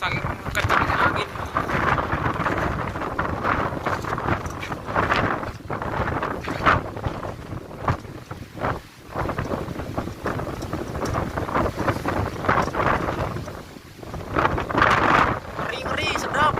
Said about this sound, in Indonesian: Sampai mau kabur ke kota saking kencangnya angin.